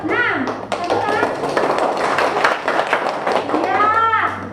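A classroom of children clapping for a group, a dense burst of many small hands patting fast and unevenly, with young voices calling out over it near the start and end.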